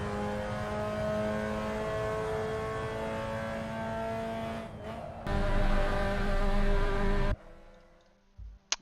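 Several race cars roll slowly out of the pits at Vallelunga Club circuit in Italy for qualifying in a racing video game. Steady engine drones layer together, with a sharper burst of revving and a sudden cutoff near the end, without speech.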